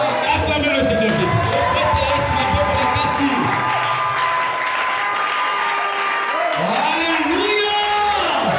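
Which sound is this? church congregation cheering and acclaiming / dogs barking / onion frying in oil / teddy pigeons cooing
church congregation cheering and acclaiming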